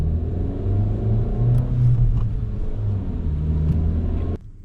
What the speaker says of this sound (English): I'm using first gear to slowly creep forward.